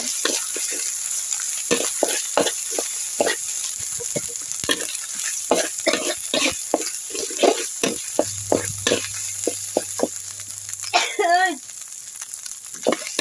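Catfish stir-fried with curry paste in a hot pan gives a steady close sizzle and frying hiss, with scraping stirs and clatter throughout and a brief rising squeal near the end.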